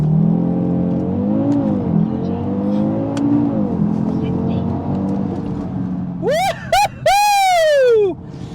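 An Audi RS3 accelerating hard from a standstill through its gears on a road, engine note climbing steadily then howling high through fast upshifts before cutting off; loud and close, with a person's voice over the engine early on.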